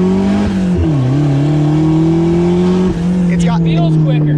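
A turbo Mazda Miata accelerating under throttle, its loud, close engine holding a strong droning note that dips briefly and then climbs steadily, with faint voices and some higher squeaks near the end.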